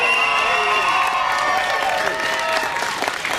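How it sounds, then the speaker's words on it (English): Crowd at a Black Lives Matter rally applauding and cheering for an organizer, dense clapping with whoops and voiced shouts rising over it, loud and sustained. "Give her another round of applause."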